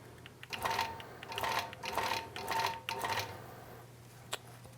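A quilting sewing machine makes three or four short bursts of rapid stitching as tie-offs are sewn into fabric, close and moderately quiet, with a faint click near the end.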